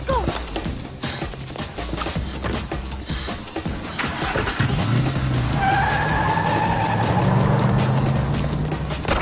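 An AMC Gremlin drives fast with tires squealing and skidding, engine roar rising over a busy mix of road noise, then a sustained squeal as it slides.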